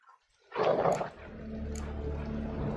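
In The Witcher 3: Wild Hunt, a dog gives a single close, loud bark, followed by a low steady rumble.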